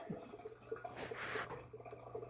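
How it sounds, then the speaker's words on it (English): Beer being siphoned from a fermenter into a secondary fermenter, faint trickling and dripping liquid with small gurgles and a soft low hum beneath, quiet and close, with no talking. "And it's siphoning down, slowly but surely."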